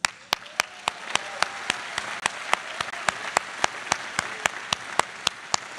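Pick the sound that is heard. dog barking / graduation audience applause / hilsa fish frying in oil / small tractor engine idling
graduation audience applause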